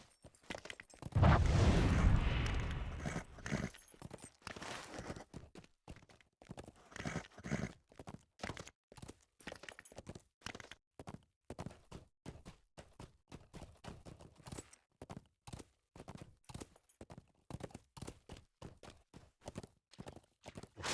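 War steed hooves in the LOTRO video game, a loud burst of movement at first, then a long steady clip-clop of walking hoofbeats, even and fairly close, with no talking.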